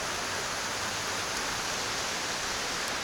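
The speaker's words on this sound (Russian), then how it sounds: "Начался дождик" Light rain begins near a lake in Nepal: a soft, uniform hiss of falling drops, steady and unbroken, with no voices.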